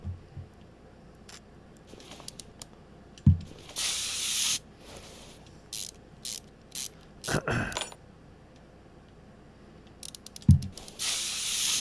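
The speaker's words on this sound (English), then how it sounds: "Another WD-40." A WD-40 spray can in the video game Car Mechanic Simulator 2021 gives several short, loud hissing sprays between clicking and ratcheting garage mechanism sounds, with no talking.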